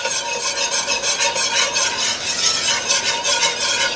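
A butter and flour roux being whisked in a pan on the stove, with a loud, continuous, close-up rhythmic scraping and swishing that carries faint sizzling and no talk.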